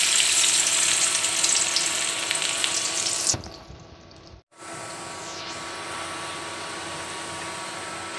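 Chopped onion goes into hot oil with a loud, dense hiss that dips abruptly, cuts out for a moment, then settles back into a steady, close sizzle.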